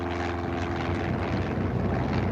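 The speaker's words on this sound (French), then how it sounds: "Les passants regardent avec étonnement un avion léger Cessna qui atterrit sur la place rouge." A light Cessna airplane lands on Red Square in Moscow, its propeller engine droning loud and steady throughout with a low hum underneath.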